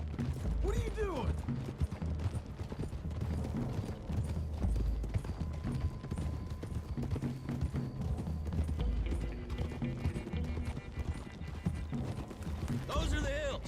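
Horses' hooves clip-clop steadily through dense game music and effects in Red Dead Redemption 2, a continuous loud galloping rhythm with occasional whinnies and mechanical clatter.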